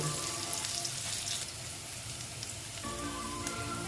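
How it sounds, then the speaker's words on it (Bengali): Turmeric-coated potatoes sizzle in hot oil, a soft steady crackle like light rain, fairly quiet and unbroken, with faint utensil tones near the end. "দেখো বন্ধুরা আমার মোটামুটি আলু ভাজাটা হয়ে গেছে"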